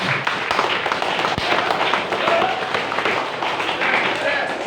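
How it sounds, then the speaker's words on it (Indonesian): An audience applauds a professor at an academic talk, with a dense, steady patter of clapping filling the hall throughout. "Tepuk tangan untuk Bapak Profesor"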